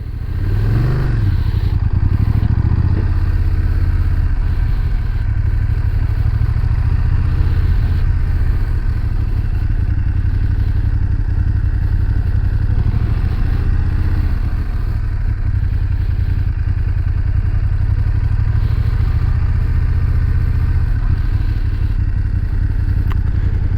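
A 2019 BMW F750GS motorcycle on the move, its engine a steady close drone mixed with wind roar and occasional rattles for the whole stretch, with no talking.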